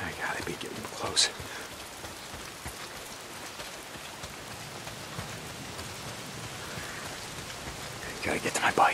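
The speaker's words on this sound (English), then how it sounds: "If it's not the freaks, it's the goddamn rain." Steady rain pours across a post-apocalyptic open world in Days Gone, a constant wash of falling water that runs the whole time, with faint talk and brief sharp sounds near the start and end.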